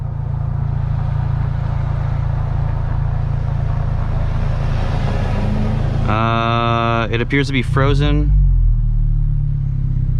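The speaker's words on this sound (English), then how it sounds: "so I started the car" A 2020 Honda Civic Si engine idles with a steady low rumble throughout, with a person speaking briefly over it near the end.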